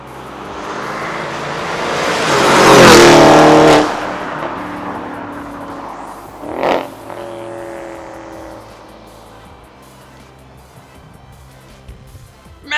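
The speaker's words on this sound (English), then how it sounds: "Definitely doesn't sound bad for a hacked up exhaust" A modded Audi S6 with a hacked-up exhaust accelerates hard past the listener, a loud rising roar that peaks and fades, then a second brief loud burst before the engine note trails off into quieter rumble.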